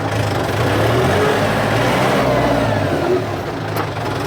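A 2019 Kubota M7040 tractor with a four-cylinder engine runs close by, a steady loud diesel drone with a low throbbing rumble that holds throughout.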